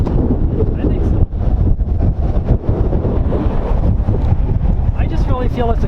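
Strong wind buffets the microphone in a windy desert, a steady loud roar with gusty surges throughout, while a person talks over it.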